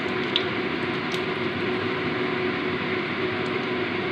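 Five-spice seeds and bay leaves sizzle steadily in hot oil, a close, even frying hiss with occasional faint crackles and no talk.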